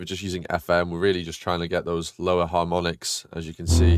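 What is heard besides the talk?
No everyday noises stand out.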